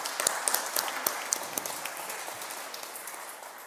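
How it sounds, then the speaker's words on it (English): Light, thin applause from a small conference audience at an award announcement, a steady patter of claps with a few sharper individual hits, fairly faint throughout. "So please join me in giving a round of applause."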